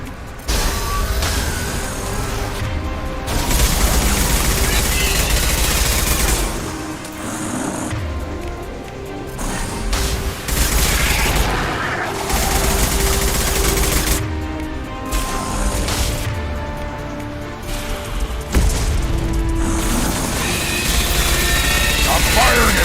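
Video game gunfire rattles in dense, continuous bursts through a loud battle mix with rumbling engines and mechanical noise, while voices shout over the action.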